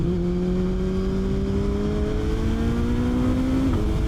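A Suzuki Hayabusa motorcycle engine drones steadily under throttle at close range, its tone holding level before a brief dip near the end as the engine cuts out.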